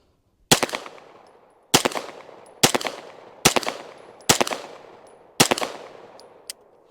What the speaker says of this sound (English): I'll finish this mag off.